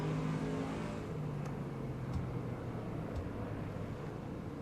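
A 1970s American muscle car in Assetto Corsa racing at Brands Hatch Indy, its engine droning steadily at a distance with a few brief higher revs, fairly faint, no talk.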